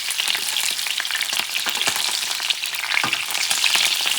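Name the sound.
shrimp frying in oil in a paella pan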